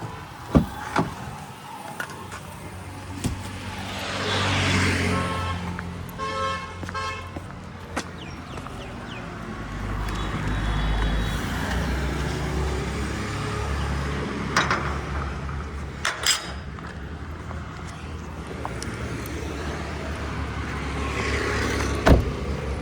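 Traffic heard from inside a car, a low road rumble with passing vehicles and a few short horn toots in the distance, plus scattered clicks and knocks nearby.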